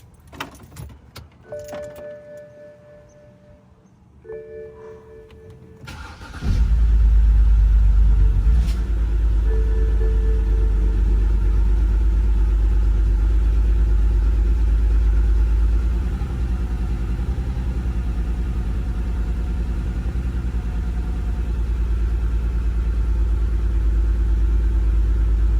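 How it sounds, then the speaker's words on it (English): A car engine, just repaired after a cylinder 6 misfire, starts after a brief jingle of keys, then settles into a loud, close, steady idle with a deep rumble. "Let's hear it start, man."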